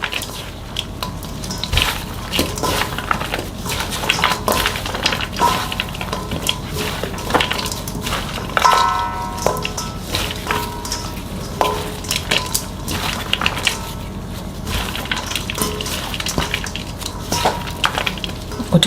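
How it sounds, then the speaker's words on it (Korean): Sea-blite greens are gently tossed with fine chili powder by hand, giving soft irregular rustles and occasional light taps against a bowl, close and fairly steady. "색깔이 잘 입힐 수 있도록 이렇게 살살 버무려 주세요."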